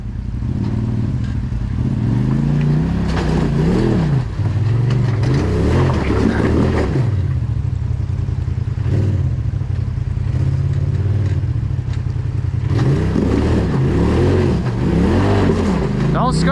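An off-road vehicle's engine labours over rocks on a mountain trail, a loud, close, steady drone that swells and revs in surges as it crawls, with people talking over it.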